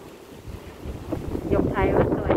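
Strong seaside wind at the Aberdeen waterfront in Hong Kong buffets the microphone in rough, rumbling gusts that build louder, with a voice partly heard beneath.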